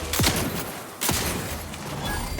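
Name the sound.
triple-barreled shotgun firing in video game Outer Worlds 2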